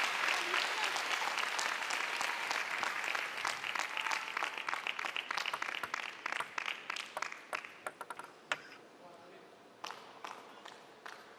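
A large arena crowd at a table tennis world championships match applauds and cheers steadily, the roar thinning out into scattered individual claps toward the end.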